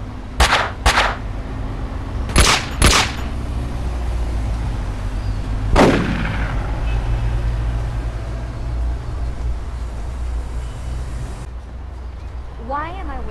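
Gunfire in the game Cyberia: a quick pair of shots, then another close pair, and a single louder blast with a ringing tail, over a low engine-like hum, with a brief whirring sweep at the end.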